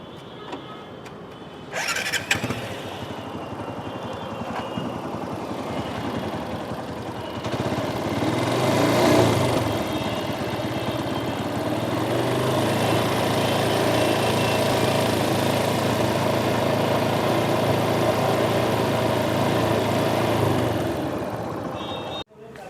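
A motorcycle engine at a service center starts and then idles steadily during a test run, loud and close for about twenty seconds with no talking.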